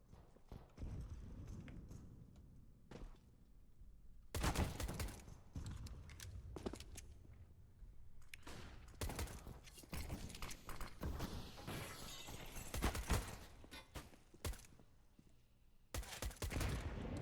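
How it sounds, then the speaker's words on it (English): Counter-Strike match play with bursts of game gunfire and a headshot, sharp broadband shots scattered through the clip over constant in-game rumble and footsteps. "It's a nice little headshot there from Avin"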